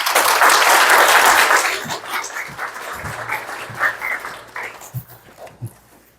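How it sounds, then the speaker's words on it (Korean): A congregation at a preaching festival gives a loud, dense burst of applause for a sermon speaker. It thins after about two seconds into scattered, irregular claps and soft rustling, tapering off to quiet. "박수로 격려해 주십시오."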